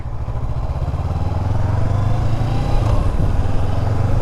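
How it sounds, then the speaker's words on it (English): A motorcycle engine drones close by with a low, throbbing rumble that swells steadily as it passes, loud and continuous, in Custer State Park during the Sturgis motorcycle rally. "Oh, there's a motorbike."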